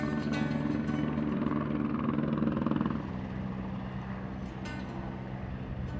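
A helicopter in flight on a roughly 90-minute trip over remote Labrador wilderness to a fishing lodge, its engine and rotor making a steady, loud droning hum with a slight shift in pitch partway through.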